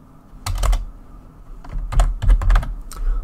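A name being typed on a computer keyboard in three quick bursts of crisp, close key clicks separated by short pauses, clear and alone.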